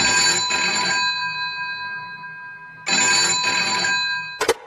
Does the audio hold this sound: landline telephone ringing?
yes